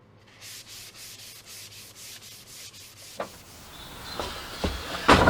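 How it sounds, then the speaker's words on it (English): Sanding bolts with a coppery bronze finish for refurbished garden furniture, heard as a steady rasping rub that repeats in regular strokes, closing with a few sharper knocks and scrapes. "So all that needs to be done now with that is to have those sanded up."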